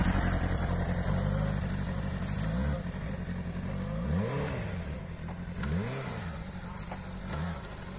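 A car engine revs up and down repeatedly as the throttle is pressed and released, a loud, close drone rising and falling in several swells.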